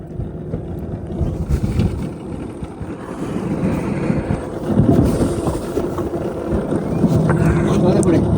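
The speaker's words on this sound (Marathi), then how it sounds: "सकाळच्या पहाटेचा वारा एकदम ताट चालू आहे आणि समुद्र फुल बेकार हालत आहे" Strong early-morning wind gusts and rough, churning sea around a fishing boat out in the Konkan deep sea, a steady loud roar of wind buffeting the microphone over low engine and water rumble throughout.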